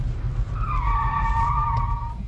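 Car tires squeal in one sustained skid under hard braking during a braking test, loud and continuous for about two seconds over rumbling road and engine noise.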